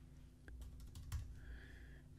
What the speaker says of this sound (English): Type in that IP address, the external one now.